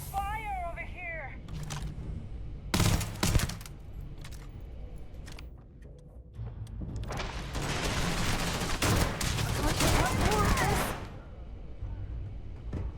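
Gunfire bursts in the Starfield video game, sharp loud volleys at about 3 seconds and a dense sustained stretch from 7 to 11 seconds, mixed with other game effects and a voice talking at times.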